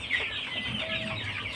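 Farm chickens raised in a poultry house cluck in a brief burst of overlapping calls, close and moderately loud, with no talking.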